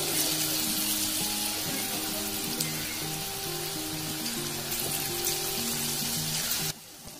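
Chunks of elephant foot yam chilli fry in hot oil in a pan, giving a steady, close sizzling hiss that runs throughout beneath light background music.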